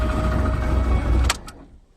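A 1989 Jeep XJ engine idling with a suspected flex plate noise, a steady low rumble with faint ticking that cuts off sharply, followed by a couple of short clicks and a fading tail.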